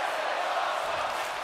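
Wrestling arena crowd at a tag match cheering and roaring in a steady, loud wash of voices that fills the space without a break.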